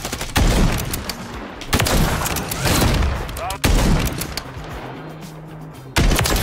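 Repeated bursts of gunfire in a shooter video game, loud and close, with several sharp onsets across the stretch, mixed with game sounds and someone talking over it.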